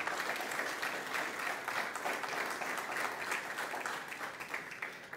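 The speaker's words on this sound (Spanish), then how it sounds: "Dele ese fuerte aplauso." A church congregation gives a long, sustained round of applause during a sermon, a thick, steady patter of many hands at a moderate distance that carries on for several seconds without talk.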